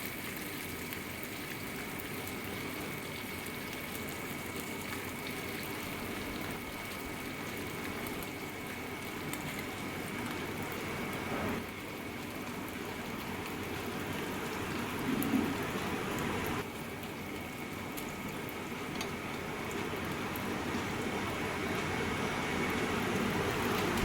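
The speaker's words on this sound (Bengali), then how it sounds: "সেইগুলো আমি এই তেলের ওপরে দিয়ে দিলাম দিয়ে আস্তে করে উল্টে পাল্টে হালকা করে ভেজে নিচ্ছি" Mourala fish, rubbed with salt and turmeric, fry in hot oil in a pan. A constant crackling sizzle runs evenly throughout, moderately loud and close, with no talk over it.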